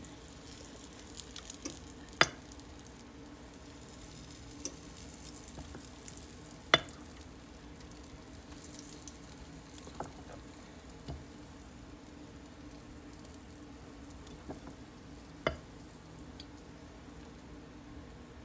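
Soft, steady sizzling of cornbread batter frying in a hot skillet, quiet and continuous, with occasional sharp pops and clicks.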